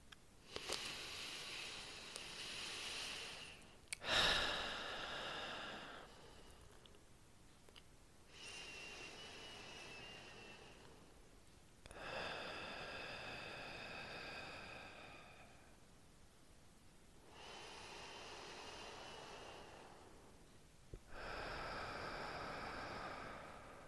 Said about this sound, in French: Je vous invite à faire un cycle de 3 respirations